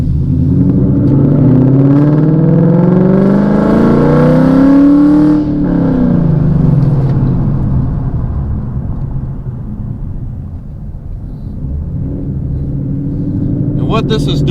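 A loud 2016 Mustang with Baer drag brakes drives on a quiet road, its engine rumbling and rising in pitch as it accelerates, then easing off into a lower drone.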